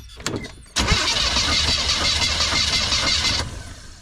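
A van engine cranks over and tries to start, a sudden loud, steady churning roar that begins after a short quiet pause and runs for nearly three seconds before cutting off.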